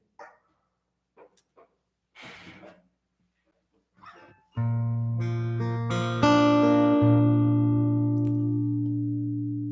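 Guitar plays a slow prayer melody, starting after a few scattered knocks and handling sounds, then sustaining rich ringing chords and single notes that fade gradually, close and clear.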